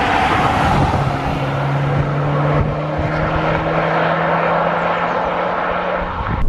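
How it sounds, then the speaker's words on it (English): A high-mileage Volkswagen GTI accelerating hard in second gear from about 3000 RPM gives a loud, sustained engine drone with rising tones, heard from inside the car over road noise. "if I drop it to second now, we're already at 3000 RPM and I floor it"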